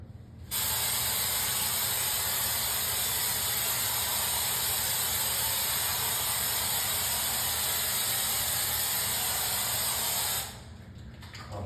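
An orange peel texture sprayer blows a loud, continuous airy hiss onto a wall for about ten seconds with a faint mechanical rattle underneath, starting and stopping abruptly, up close and with no talking.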